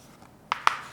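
Chalk or marker strokes on a classroom board during a geography lesson, two short sharp scratchy taps in quick succession after near silence.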